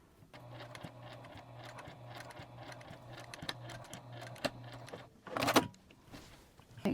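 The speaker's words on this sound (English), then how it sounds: "I'm going to sew the tabs on for both sides." A sewing machine runs in steady stretches while sewing tabs onto a zipper pouch, its motor hum and rapid needle clatter close and continuous, then a brief louder rustle of fabric near the end.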